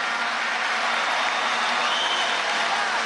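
Large crowd at a gubernatorial swearing-in ceremony in Lara applauding for Nicolás Maduro, a dense, steady wash of clapping that fills the whole stretch at even loudness, with a faint voice or cheer buried underneath.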